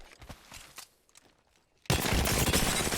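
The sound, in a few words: automatic weapon gunfire in video game Apex Legends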